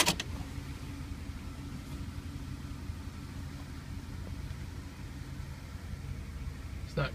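A 1970 Pontiac LeMans fitted with a 4.8L Vortec V8 and 4L60E transmission idles steadily while still cold, a low continuous rumble heard close up with no speech.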